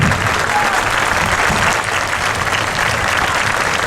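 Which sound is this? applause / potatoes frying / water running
applause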